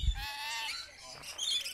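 Harsh, squawking bird calls ring out in a quiet, wooded wilderness area, close and fairly loud, with a couple of separate cries over a brief low thump at the start.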